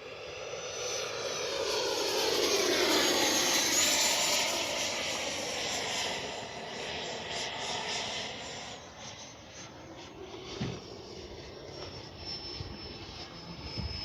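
An FMS 80mm F-86 radio-controlled model jet flies overhead, its loud rushing ducted-fan whine swelling as it passes close, then fading to a softer distant hiss with no talk.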